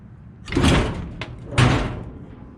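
A rusty old truck's hood drops shut by itself onto a freshly mounted cab, giving two heavy metallic thumps about a second apart, near and fairly loud, with no talk.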